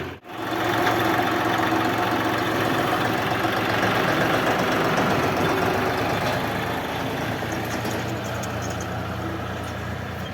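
Shifeng SF 244 C tractor engine runs steadily with a dense, rough diesel chug, loud and close throughout while pulling a trailer out to collect hay, no talking.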